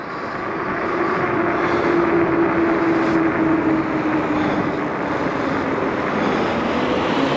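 An ENGWE X26 dual battery electric bike rides along, its motor a steady low whir blended with loud rushing wind and road noise that hold constant throughout.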